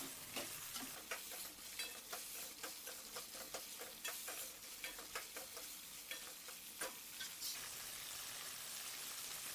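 A spoon stirs mixed beans and vegetables frying in a pan for Gujarati chapdi undhiyu, with rhythmic scraping strokes over a faint, steady sizzle and no talking.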